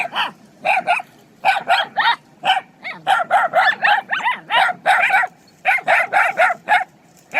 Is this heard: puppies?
yes